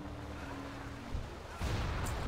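Cannon fire in a World of Warcraft pirate sea battle against the Bloodsail Brashtide crew, two heavy booms landing over a steady rumbling backdrop, the second louder and nearer.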